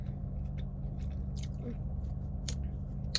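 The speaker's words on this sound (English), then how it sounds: "I'm so sorry if you have misophonia and you are listening to me chew" A person chews food close to the microphone with soft, wet biting and crunching sounds over a steady low background hum, with no talk.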